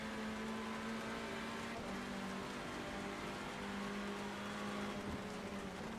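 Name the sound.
onboard race car engine at Thruxton, iRacing video game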